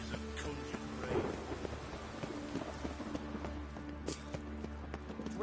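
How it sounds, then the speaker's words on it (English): Rain falling steadily with a brief thunder rumble in The Witcher 3 on PS4, with hoof-like clopping and game ambience mixed in, no speech. "Witches have conjured rain."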